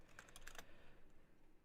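A few quick keystrokes on a computer keyboard as a search term is typed, a short burst of light clicks in the first half second, then quiet room tone; faint and close, with no talking.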